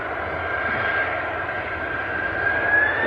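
An EasyJet airliner departing Manchester Airport for Jersey roars steadily at a distance, a continuous jet rumble that swells slightly toward the end, with no talk.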